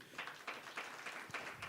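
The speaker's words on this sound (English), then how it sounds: "A round of applause for him." Faint audience applause at a blockchain supply-chain media event, a soft, steady wash of many hands clapping with slight surges, heard at a distance in a quiet room.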